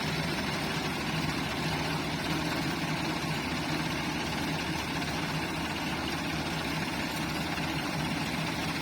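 A Ford tractor engine labours while pulling a trolley, a continuous rumbling drone with low vibration, steady and fairly near.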